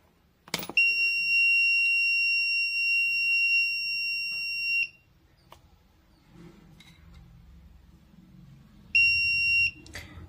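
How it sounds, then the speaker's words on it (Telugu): A buzzer on a homemade object pickup detection circuit sounds when a coin is lifted: a loud, steady high-pitched tone holds for about four seconds, stops, then sounds again briefly near the end, with faint handling noises between. "అలానే బజర్ అనేది మోగుతుంది."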